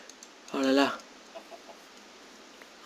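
A chicken in the video game Minecraft gives a single short clucking call, close and clear over a quiet background, followed by faint scattered clicks.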